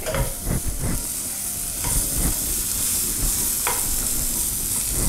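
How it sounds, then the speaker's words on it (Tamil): Carrots sautéing in oil for a carrot and green pea curry masala make a continuous sizzle, with scraping spatula strokes near the start and no voices. "இதை கொஞ்சம் நாங்கள் அந்த ஆயிலில் இப்போ இதை கொஞ்சம் ஸ்லைட்லி வதக்கிட்டு"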